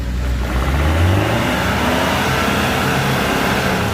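Loud engines of two modified Thai cars revving hard and continuously while drifting, a dense roaring whine rising and falling nearby, with no pauses.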